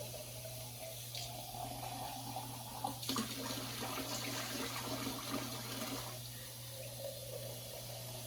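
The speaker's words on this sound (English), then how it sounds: "Let's get a little water in there." Steady running water pouring and splashing into a cooking pan with a ham for several seconds, a continuous rushing flow over a low background hum.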